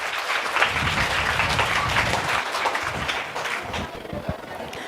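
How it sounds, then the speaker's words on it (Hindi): Loud applause from an audience at an Islamic drama performance by female participants at a girls' madrasa in Sonapur, steady dense clapping that holds for about five seconds and eases slightly at the end. "ज़ोरदार तालियां हो जाए इन लोगों के लिए।"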